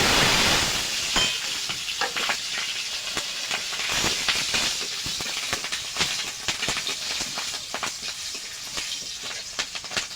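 Cumin seeds and green chillies sizzle and spit steadily in hot oil while cabbage ghonto cooks, a dense close frying hiss with scattered sharp crackles and pops throughout.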